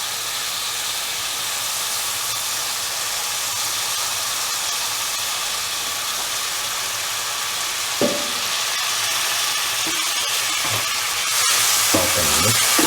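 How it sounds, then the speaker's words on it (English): Minced mutton and green peas fry in a pan with a loud, steady hiss and sizzle, and stirring scrapes and clatter come in toward the end. "Put in the minced mutton, which we combined with the other, and put in the green peas or matar."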